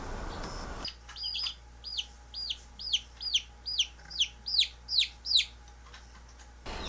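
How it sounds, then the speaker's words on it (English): Two-month-old Cornish Cross chickens from a feed store giving a run of about a dozen short, evenly spaced clucking calls that grow louder toward the end, heard alone over quiet background hum. "we got 5 Cornish Cross chickens from the feed store"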